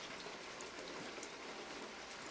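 Rain falls steadily outside a village house on a Sunday, a soft, even hiss of drops on surfaces, faint and continuous with no voices.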